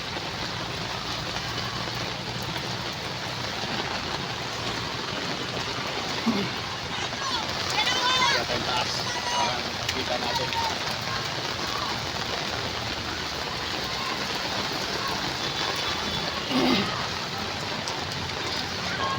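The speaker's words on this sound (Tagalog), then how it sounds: "Di pa tapos yung ulan, malalim na." Heavy rain pours steadily onto a flooded street in Sampaloc, Manila, a dense, even hiss that lasts throughout while a person talks over it.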